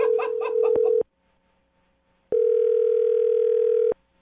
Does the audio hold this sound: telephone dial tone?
yes